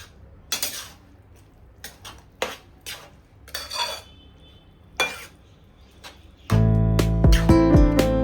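Metal utensils clink and scrape against a pan as methi (fenugreek leaf) vegetable is stirred, a series of short separate clatters, then a loud, sustained, tonal rattle of cookware near the end.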